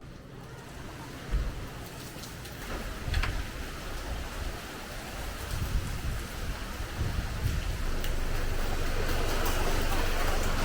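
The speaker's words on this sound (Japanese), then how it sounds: "今日は雨です。" Rain falls steadily on a street in the port town of Keelung, Taiwan, a dense hiss with occasional thumps and spatters that grows slightly heavier and more continuous toward the end.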